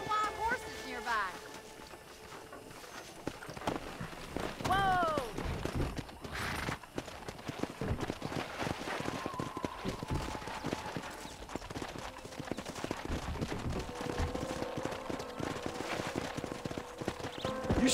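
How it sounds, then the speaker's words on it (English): Horse hooves clip-clop in Red Dead Redemption, a steady rhythm over outdoor ambience, with a horse whinnying early on and the galloping continuing throughout. "there's a pack of wild horses nearby"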